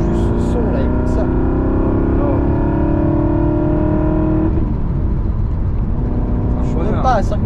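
An Aston Martin Vantage engine revs hard and loud up close, its pitch climbing steadily below 5000 rpm before dropping back, with a voice speaking over it near the end.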